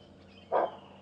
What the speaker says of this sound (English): There, you hear that bark? There was another nyala that saw him. That's the nyala bark.